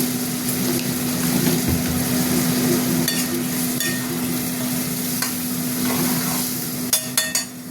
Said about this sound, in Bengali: এই দিয়ে মশলা এবার কষবো।